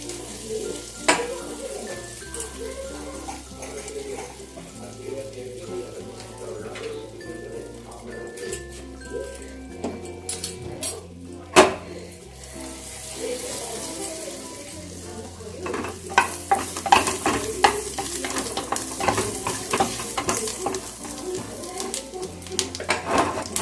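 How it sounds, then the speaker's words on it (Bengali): Dried red chili and cumin seeds fry in hot oil in a home kitchen, giving a continuous close sizzle with occasional stirring scrapes that grows busier toward the end. A low hum runs underneath. "এবার আমি একটা শুকনো লঙ্কা, একটু জিরে ফোড়ন দিয়ে দেবো"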